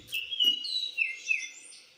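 Birds chirp in the countryside, a clear run of high, bright tweets and sliding whistles in quick succession, close and fairly loud with no voices.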